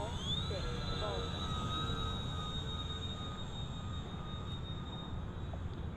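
An E-Flite EC-1500 RC cargo plane flies with its flaps down, its electric motor giving a thin, steady whine over a broad rush of wind and open-air noise, heard at a moderate distance.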